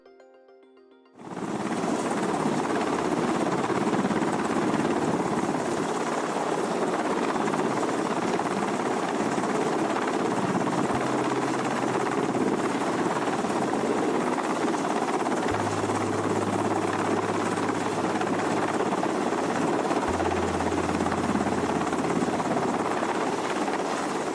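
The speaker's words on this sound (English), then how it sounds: "This footage captures the difficult process of refueling a helicopter for emergency situations at sea." A helicopter hovers during refueling at sea, its rotor and turbine roar loud, dense and unbroken throughout, with no talk and only faint low shifts underneath.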